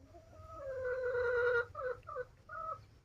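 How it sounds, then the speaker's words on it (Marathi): A big rooster and hens in a coop call out, with one drawn-out fowl cry followed by several shorter clucks, close but fairly soft, with no talk. "हा बघा केवढा मोठा कोंबडा आहे."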